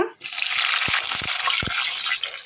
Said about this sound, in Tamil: கடுகு போட்டுடலாங்க பொரியட்டும்